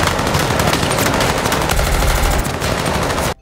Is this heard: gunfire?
yes